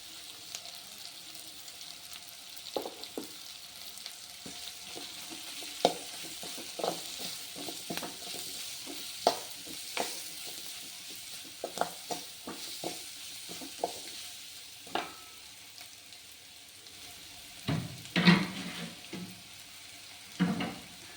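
Garlic and curry leaves frying in a pan for a mutton bone soup, a soft steady sizzle with frequent light scraping taps of stirring, quiet and close.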